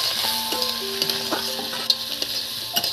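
A spatula stirs onion stalks frying in a pan, giving a steady loud sizzle broken by repeated scraping and clinking strokes against the metal.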